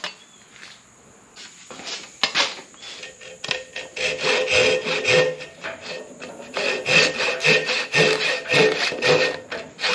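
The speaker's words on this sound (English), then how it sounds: "The smaller teeth are for cutting cross grain. So that's what we're gonna use here." A Japanese dual-sided pull saw cuts across the grain of wood using its finer teeth, giving a run of rasping strokes that starts sparse and builds to a steady, close, scratchy rhythm with no talking.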